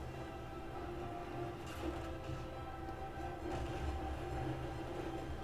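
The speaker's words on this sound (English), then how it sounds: "Here comes the train." A train rumbles past steadily on a video game tank battle map, with a continuous low mechanical roar and rattling close by that swells slightly midway, alone with no talk.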